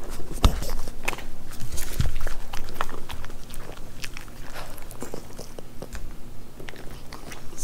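Miniature poodles chew pieces of beef from beef stew, close wet crunching and smacking bites in irregular bursts, with a few sharp clicks and light shuffling.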